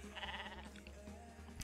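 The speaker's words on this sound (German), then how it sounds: "7 Schafe." Sheep in the online horse game Star Stable Online bleat, a couple of wavering bleats at low volume over a steady game background, no talk during them.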